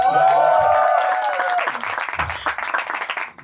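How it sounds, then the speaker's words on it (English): Audience applause at a comedy show, a burst of clapping that builds under lingering tonal voices and crowd noise, then breaks into scattered claps before stopping. "Guys, can we have a round of applause?"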